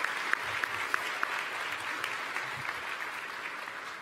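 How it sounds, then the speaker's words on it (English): Dense, continuous applause from a graduation convocation crowd fills the hall, with sharper individual claps popping out near the start and no one speaking. "That deserves an applause."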